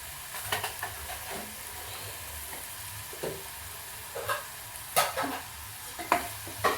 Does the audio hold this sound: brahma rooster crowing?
no